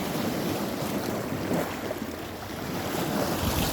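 Sea waves at a beach wash in a steady rushing roar with wind buffeting the microphone, broad and continuous throughout, no voices.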